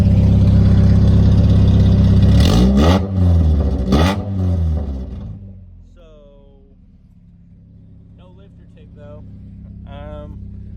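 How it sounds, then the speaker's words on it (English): A Mazda Miata NA's exhaust revs loudly in a few sharp bursts, then settles to a low rumbling idle while a person speaks briefly over it. "let me give you a little exhaust clip"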